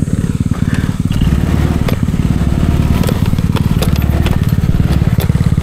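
Honda Click 125 scooter engine laboring up a steep mountain trail, a loud, close, rapid putter that holds steady throughout, with a few sharp clicks and knocks over it.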